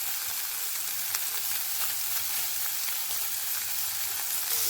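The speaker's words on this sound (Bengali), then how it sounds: "পনিরগুলোকে ভেজে নেব" Paneer pieces frying in a wok over raised heat, a steady continuous sizzle with faint crackles, close and even throughout with no voices.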